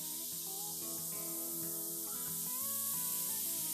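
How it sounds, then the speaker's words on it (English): White vinegar mixed 50-50 with water fizzing on baking soda inside a household oven, a steady, dense hiss and crackle of bubbling foam lasting throughout, close and even, with music playing underneath and no talking. "Now the idea is I'm meant to leave this on for a couple of hours and it is going to fizz."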